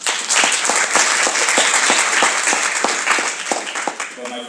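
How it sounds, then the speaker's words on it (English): Round of applause from the audience for a panel at an award and discussion session, loud close clapping with distinct individual claps that thins out toward the end. "Let's hear a round of applause"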